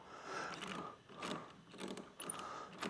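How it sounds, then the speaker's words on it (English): Allen key turning to fasten the pads of an Inno Aero roof rack on a 2022 Chevrolet, giving close, quiet ratcheting clicks and metallic scraping in a few short bursts with no talking. "we're going to use our included Allen key to fasten down"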